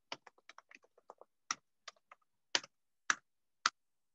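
Close computer keyboard keystrokes typing code, a quick burst of light clicks followed by several louder, spaced-out key presses in an otherwise quiet room.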